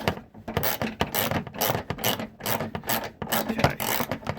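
A ratchet works loose a rusty, crusty headlight bolt on a 2004 Dodge Ram 1500, giving a dense run of close, fast clicking and grinding bursts that repeat steadily throughout.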